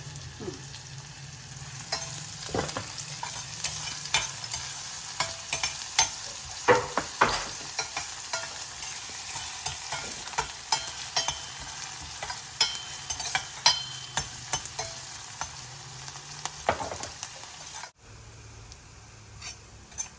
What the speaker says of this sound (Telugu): ఇది ఆనియన్స్ వేగిన తర్వాత చికెన్ వేయాలా